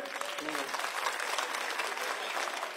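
Crowd at an outdoor political election rally in Delhi applauding steadily, a dense wash of clapping from many hands that holds at an even level throughout, with a brief voice heard near the start.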